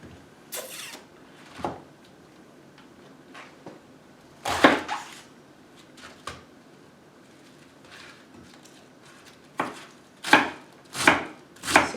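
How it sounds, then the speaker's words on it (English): A knife slices cabbage thinly on a chopping board in irregular bursts of crisp cuts, a few single strokes early on, then quicker runs of slices, close and clear against a quiet room. "he is making a very thin slice on the cabbage"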